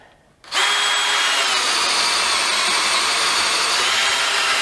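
A DeWalt Atomic DCD709 combi drill spins a 25mm auger bit. After a brief quiet start the motor kicks in abruptly and holds a loud, steady, high whine with no pause.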